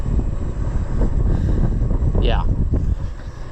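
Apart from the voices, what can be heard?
wind blowing on microphone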